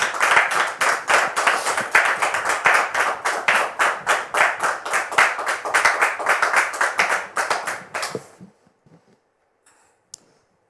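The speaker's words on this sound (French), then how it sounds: "sous vos applaudissements." Studio audience applause on a French talk-show set greeting a third guest, a dense burst of rhythmic clapping that holds loud for about eight seconds and then stops abruptly, leaving near silence with one faint click.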